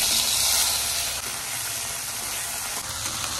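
Okra (bhindi) fries in a hot pan with a loud, steady sizzle and hiss that runs unbroken from start to finish, close up and without talk.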